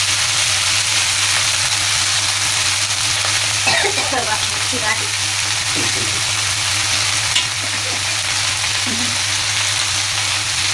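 Green chilies and a pinch of asafoetida frying in hot oil, a steady loud sizzle throughout with brief crackles and stirring sounds, alongside a constant low hum in the kitchen.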